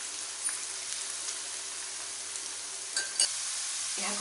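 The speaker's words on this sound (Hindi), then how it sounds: "यहाँ को गोल्डन हवा जाए फ्राई करिबे।" Crispy okra (bhindi) fries on a medium flame in a kadai, a steady bright sizzle with occasional stirring clinks and scrapes near the end, no speech.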